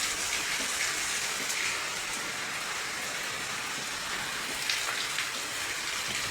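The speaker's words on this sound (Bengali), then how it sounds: "আজকে বেশ ভালোই বৃষ্টি হচ্ছে" Heavy monsoon rain falls outside a window, a dense, steady hiss of downpour that stays loud and even throughout with no voices.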